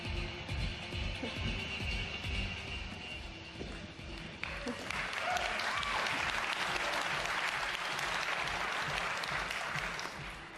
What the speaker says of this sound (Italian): Thanks for the warm applause.